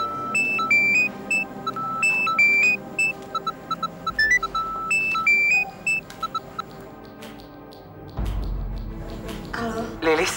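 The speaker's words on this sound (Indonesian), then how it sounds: "ada telepon, Lis." A telephone plays a repeated electronic ringtone melody of short tonal beeps, followed by a low thump, with voices talking briefly.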